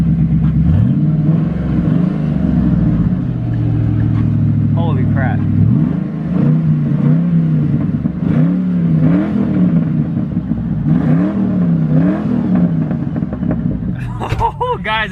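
A Foxbody Mustang with a new exhaust idles with a deep burbling rumble, then revs repeatedly in rising and falling swells, loud and close, while a voice exclaims briefly.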